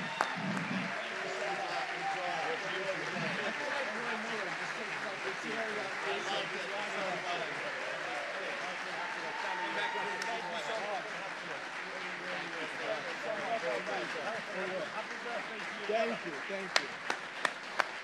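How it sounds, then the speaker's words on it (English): Live audience applause at a Washington DC show, a steady wash of clapping and crowd noise filling the room throughout, with a voice speaking over it and a few sharper claps near the end. "Can we get a massive DC round of applause for the one and only Ron,"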